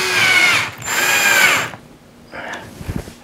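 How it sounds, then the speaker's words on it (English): A power drill drives a screw for a ceiling fan bracket, two loud whirring bursts of about a second each close by, then a shorter, quieter spin with a few clicks. "screw it in."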